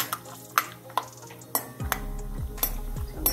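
Almonds and cashews tipped into a pan with peanuts frying for a Navratri fasting chivada: several sharp clinks and rattles of nuts against metal, with background music underneath and no speech.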